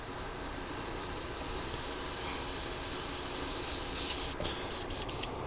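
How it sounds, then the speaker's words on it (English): An airbrush used on a 1/700 scale model ship hisses continuously and loudly as air is added, a steady spray noise that cuts off in short bursts near the end. "let me get the airbrush reset up, and you'll hear as I add the air to it"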